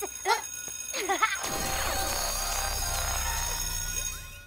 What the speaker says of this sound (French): J'ai passé la matinée à me battre contre l'alarme à incendie qui est devenue incontrôlable!